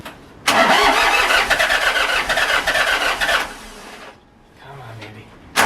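A cold tractor engine, plugged in to warm for about half an hour on a freezing day, cranks loudly for about three seconds, then drops to a quieter, uneven rumble.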